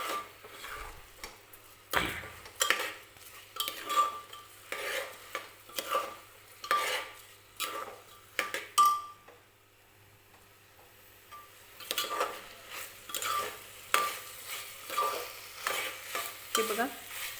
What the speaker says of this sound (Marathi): 1-2 मिनटं तांदूळ सुद्धा असंच मी तेलामध्ये परतणार आहे मसाल्यांसोबत.